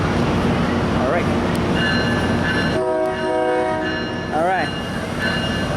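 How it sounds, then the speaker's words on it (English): A P6 train pulls away with loud wheel and engine noise as its horn sounds in two bursts, one short blast and then a longer one. A voice speaks briefly. "We got a P6 train departing from."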